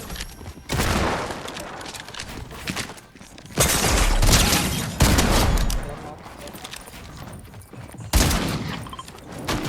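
Rapid bursts of gunfire from a Fortnite match, loud and dense, with repeated volleys that swell and cut off across the stretch, mixed with in-game effects and sparse background talk.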